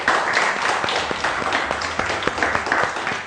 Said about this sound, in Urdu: پاکستان کے لیے تالیاں